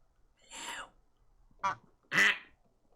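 A goose in Medieval Dynasty gives three short, nasal honks, the last one loudest, close by and isolated against near silence.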